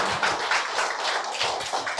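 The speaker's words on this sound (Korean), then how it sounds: "세죽사 선생님을 큰 박수로 맞이해 보겠습니다." Applause from a book talk audience welcoming a guest, a steady crowd of hands clapping continuously at moderate loudness with no voices over it.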